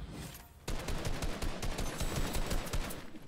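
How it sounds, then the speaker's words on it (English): Gunfire in the Fortnite video game: after a brief near-silent moment, rapid bursts of close, loud shots crack in quick succession, a fast, uneven volley that keeps going to the end. "Hey, yo, stop shooting, bruh."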